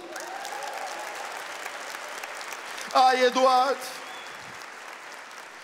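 An audience at a sermon claps in a sustained, wash-like round of applause, with a voice calling out briefly over it partway through.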